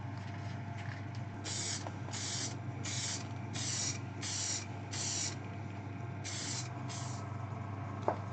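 Bursts of spray finish misted onto a turned ash bowl in a workshop of about 15-16 degrees, roughly eight hissing passes of about half a second each over a steady low hum, with no talk.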